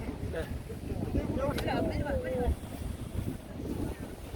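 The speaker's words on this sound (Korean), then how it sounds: "여기는 아름다운 제주 서귀포항입니다." Wind buffeting the microphone at Seogwipo harbor on Jeju Island at sunset, with a steady low rumble of moored boats and lapping water, a faint whistle-like tone drifting through, and a voice speaking over it.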